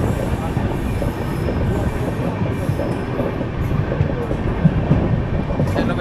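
Steady, loud rumble of an LHB Garib Rath train running on rails between Anand Vihar and Bhagalpur, with faint wheel squeals and rattling over the continuous roar.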